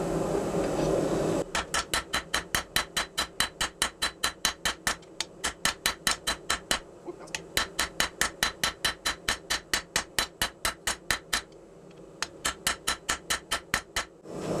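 Hand hammer forging a 1-inch-thick bar of 5160 coil spring steel, flattening a section: a long run of loud, evenly spaced ringing hammer blows at a steady quick rhythm, broken by two short pauses, close and alone.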